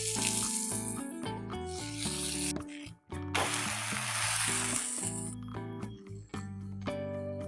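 Butter sizzling beside a cheese pancake in a pan, heard as two bursts of bright hiss set against prominent music.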